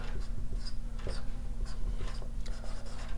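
Marker or chalk writing on a board in a physics lecture setting, with repeated short scratchy strokes over a steady low hum, fairly close and continuous with no talk.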